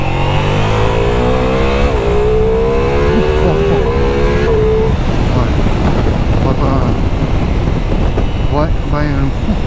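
Ducati Multistrada V4 motorcycle engine revving and pulling hard on the road, rising harmonic engine tones under heavy wind rush, loud and close, with a rider talking over it.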